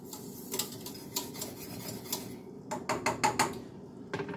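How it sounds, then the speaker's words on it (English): A utensil stirs homemade caramel in a pot, producing close, repeated scraping and clinking strokes against the metal, with a steadier scraping stretch and a denser burst of strokes later on, and no one speaking. "Now I'm just going to stir this for a little bit."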